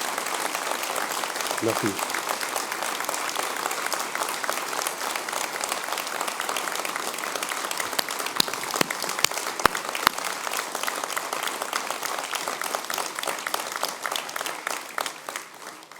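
Sustained applause from a standing audience honouring firefighters at a French New Year's address to residents, dense and steady throughout, with a brief spoken word of thanks near the start and a few sharper claps standing out.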